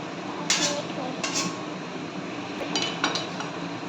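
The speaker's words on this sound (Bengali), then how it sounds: "এইবার ঢাকাটা খুলে দিই।" A metal lid comes off a pan of chicken curry cooking in a karahi, giving a few brief clinks and clanks of metal against the pan over a steady background hiss.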